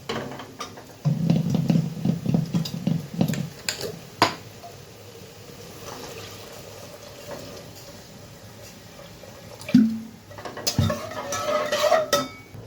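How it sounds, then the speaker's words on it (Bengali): Water goes into boiled moong dal in a cooking pot amid clanks and scrapes of metal utensils, with a short pouring splash and then further stirring and pot knocks, close and moderately loud. "তো ডালটা আমার সিদ্ধ হয়ে গেছে। তো এখানে দিয়ে দেব জল।"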